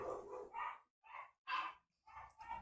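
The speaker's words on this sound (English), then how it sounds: "There goes the dogs." Dogs barking in bursts of several woofs and yips, some gaps between them, sounding muffled as if coming through a wall from another room.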